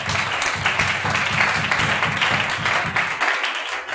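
A congregation breaks into steady, sustained applause during a church testimony service, a dense close wall of clapping that runs nearly unbroken before thinning out at the very end.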